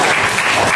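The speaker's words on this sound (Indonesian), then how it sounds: "Oke, tepuk tangan dulu." A class during a geography lesson breaks into applause. The clapping is brief and dense with steady crowd-like texture and no pauses.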